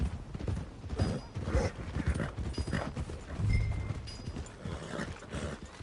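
Horse hooves clip-clop near the stables in a PS4 video game: a continuous, fairly quiet run of irregular hoofbeats, heard alone.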